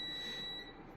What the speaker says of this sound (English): Sorry for the beep.